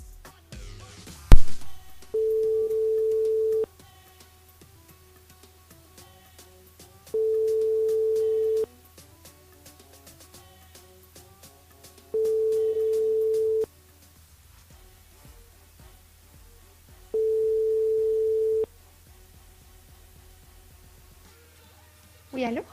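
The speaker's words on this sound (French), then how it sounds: "sur le standard, allez, on va appeler Marion ce soir" Telephone ringback tone on a radio call-in line, four long steady tones repeating at even intervals with silences between, clean and moderately loud, no talk over it.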